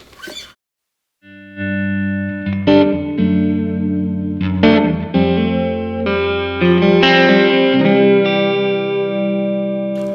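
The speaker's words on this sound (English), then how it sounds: "Let's go listen to some amp sounds." Electric guitar chords ring out through a Blackstar AMPED 2 amplifier with lush reverb, notes sustaining and overlapping, loud and close after a brief silent pause.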